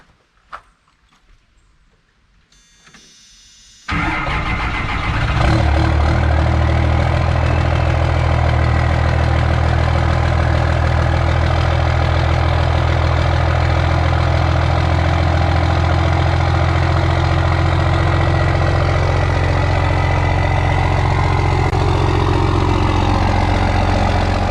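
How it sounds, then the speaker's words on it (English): A diesel engine cold-starts on a chilly Maryland day: near silence with faint small clicks, then a sudden crank and catch around four seconds, settling into a loud, steady, rumbling idle that continues to the end. "Let's do a cold start video."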